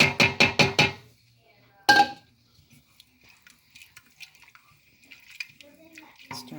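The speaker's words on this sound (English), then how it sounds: "add the last cup of the reserved pasta" Reserved pasta water goes into a pan of spaghetti carbonara in a short run of splashy bursts, followed by a single louder slosh and then quiet, scattered kitchen clinks.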